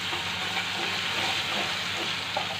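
Crushed garlic frying with onion in a pan, an even, dense hiss of oil held steady and close throughout with no voices.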